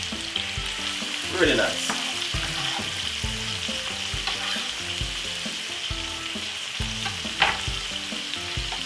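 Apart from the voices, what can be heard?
vegetables frying and being stirred in a pan for tuna pasta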